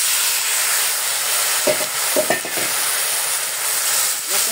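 Spice paste with turmeric and a splash of water sizzles loudly in a pan for a prawn and new potato dish, a constant frying hiss broken by a few scraping stirs near the middle.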